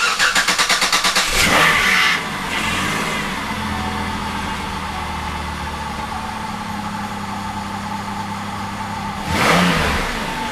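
A 2005 GM vehicle starts for the first time after its 4T65-E automatic transmission was replaced: the starter cranks in rapid pulses, the engine catches and settles into a steady, loud idle, then revs briefly near the end. No one speaks.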